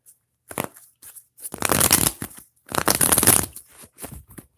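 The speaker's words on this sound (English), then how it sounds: "I'm going to shuffle up really good." Tarot cards being shuffled by hand in bursts of riffling and slapping, close and crisp, with short pauses between each round.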